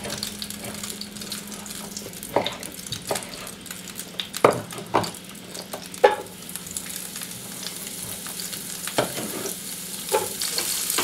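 Chicken pieces fry in oil in a pan while being stirred, giving a steady sizzle broken by repeated scraping and clinking of a utensil against the pan, with no talk.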